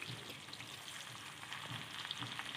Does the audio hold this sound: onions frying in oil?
yes